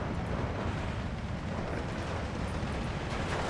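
Grenade explosions in the World War II strategy game Steel Division 2 form a dense, muffled rumble of overlapping blasts, a steady low roar at a distance with no clear single bang.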